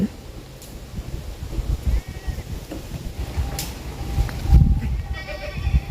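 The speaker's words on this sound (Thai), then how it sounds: "ฟาร์มเล็กๆ ไม่ใหญ่ มีแพะแค่ สิบกว่าตัว" Goats on a small backyard farm of a dozen or so animals bleat after rain, mixed with outdoor noise while someone talks.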